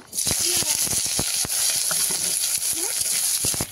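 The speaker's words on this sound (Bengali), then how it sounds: "পেঁয়াজ কুচি, রসুন থেঁতো, কাঁচা লঙ্কা একসঙ্গে দিয়ে দেব" Chopped onion, crushed garlic and green chillies frying in hot oil while cooking, a steady loud sizzle with scattered stirring clatter and brief voices in the background throughout.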